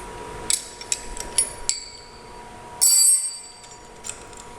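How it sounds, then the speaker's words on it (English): Metal wrenches clatter onto a hard surface in a home machine shop during a heavy-duty steady rest build, several sharp bright clanks in quick succession then a louder ringing crash, close and alone. "The sound of wrenches dropping."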